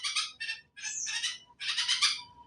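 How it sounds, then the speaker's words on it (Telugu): Small birds squawk and chirp nearby in several quick bursts, one call sliding in pitch, the harsh chattering notes sounding alone and fairly faint. "మీ పిట్టలు, మీ ఫ్రెండ్స్ పిలుస్తున్నాయి నిన్ను."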